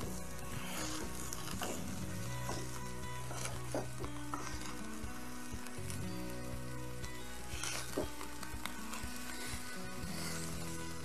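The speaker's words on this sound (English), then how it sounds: "We've got the Dutch oven going, and we're gonna just put the meat in and break it up as it cooks." Hamburger and sausage meat sizzle steadily in a Dutch oven outdoors, a dense continuous crackle with occasional scraping and stirring clatter, close and unbroken throughout.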